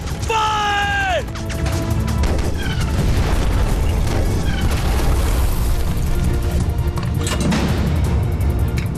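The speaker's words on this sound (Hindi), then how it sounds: "ऑन टारगेट, 1500 मीटर, 11 बजे की टाइम, दुश्मन का टैंक फायर!" A tank cannon fires in a 1965 Pakistan–India war scene, a loud booming blast that crashes into a sustained roar of battle noise and rumble, preceded by a brief rising whistle, with a voice shouting over the din.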